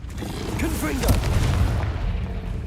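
Confringo, an explosive spell in Hogwarts Legacy, lands as a deep booming blast with a rumbling tail over about a second, loud and close amid game effects and a speaking voice.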